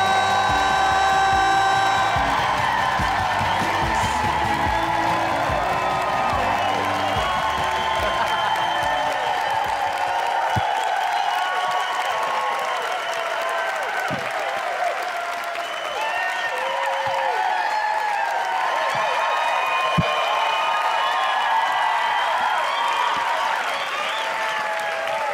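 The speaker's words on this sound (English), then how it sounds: "That's all a clapping track." A recorded applause track plays canned clapping and light crowd noise, continuous and fairly even for the whole stretch, with no voices over it.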